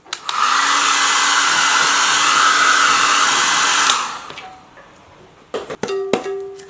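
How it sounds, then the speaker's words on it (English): A normal small hair dryer blows steadily on a freshly painted tin can, a loud continuous whirring roar for about four seconds before it cuts off, followed by a few light clinks and knocks. "small hair dryer. There we go."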